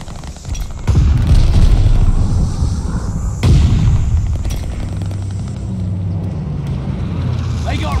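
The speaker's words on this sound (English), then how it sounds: "Incoming grenade." Grenade explosions in Call of Duty: Vanguard's Patrol mode, two loud booms about three seconds apart over continuous battlefield rumble and gunfire.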